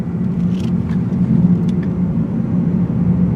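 A 2018 Lexus RC-350F circles a turning circle, its engine a loud, steady rumble with faint tire and road noise rising and falling over a few seconds.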